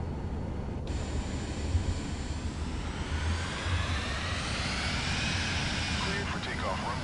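An airliner taking off in the flight simulation game Microsoft Flight Simulator 2024, with a steady engine roar that rises slowly as it accelerates, heard under radio talk.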